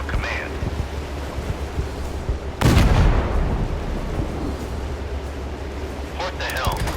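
Warship guns fire in the naval combat game Force of Warships, one sudden heavy boom that rolls off into a long rumbling decay over a steady low wash of sea and wind.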